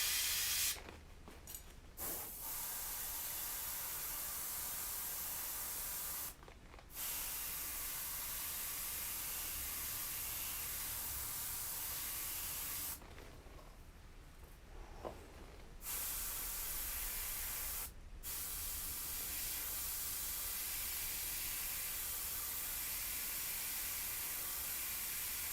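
Spray paint can hissing out graffiti in long continuous bursts, separated by short silent pauses and one longer break, close and steady with no voices.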